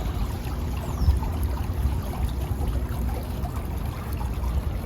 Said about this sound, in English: Wow, look at that waterfall.